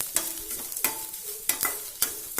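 Grated coconut fries in a pan while it browns, giving a steady sizzle. A spoon scrapes and stirs the pan at regular intervals, each stroke sharp and close.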